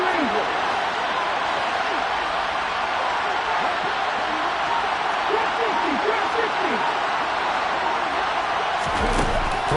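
Stadium crowd at a football game broadcast, a steady loud roar building toward a big third down, continuous dense noise with commentary voices underneath.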